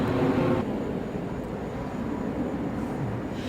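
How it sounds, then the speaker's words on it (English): Steady broadband roar of a plane passing overhead near JFK airport in New York, loud and continuous throughout, with a brief louder surge at the start. "So that's why you'll see planes coming by every once in a while."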